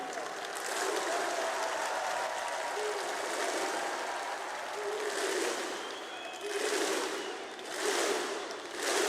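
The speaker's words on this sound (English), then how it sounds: "Yes, they deserve an applause for it" A large esports crowd claps and cheers continuously at a Counter-Strike major tournament in Kraków, swelling in waves as a distant announcer's voice carries underneath.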